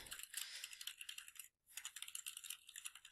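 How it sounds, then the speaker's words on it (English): Comment typed on a computer keyboard, a rapid, bright clatter of keystrokes with one brief pause midway, close and fairly quiet. "Then I can type my comment"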